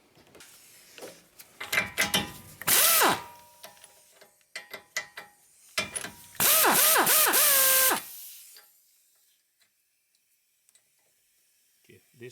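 A wrench undoing a tie rod nut on a Ford Freestyle, heard as several close bursts of ratcheting clicks and metallic clanks, broken by pauses and squeaky tonal noises, then fading to near silence.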